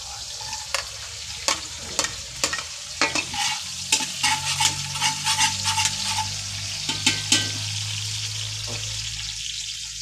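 Garlic frying in hot oil in a home kitchen, a steady close sizzle with sharp scrapes and clinks of a utensil stirring the pan at irregular intervals, no voices.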